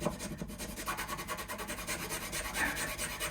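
A file steadily rasps the back of a nut on an acoustic guitar setup, rounding it off. The dry scraping strokes are close and continuous and run in a quick back-and-forth rhythm without speech.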